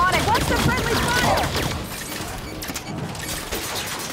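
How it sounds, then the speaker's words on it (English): A turret fires on the player in a Halo video game, giving off a rapid burst of dense gunfire with crashing impacts that fades into a lower, rumbling combat background. "The turret is firing on me."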